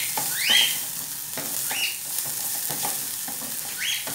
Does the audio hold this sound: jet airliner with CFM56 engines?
no